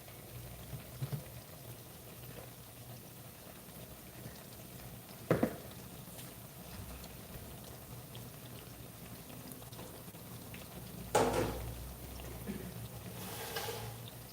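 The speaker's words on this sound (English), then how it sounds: "So our plantain is frying." Plantains frying in a pan with a steady soft sizzle and bubbling, broken by two louder crackling bursts midway and near the end, no voices over it.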